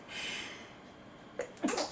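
A sneeze erupts near the end, a quick inhaled catch then a sharp burst, close and loud, after a stretch of steady room hiss during a clothing try-on session.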